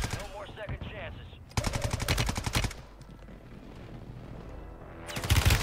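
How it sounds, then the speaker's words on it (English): Enemy gunfire in Warzone, with two loud bursts of rapid automatic shots separated by a quieter gap and another burst starting at the end. "Oh, he is shooting through."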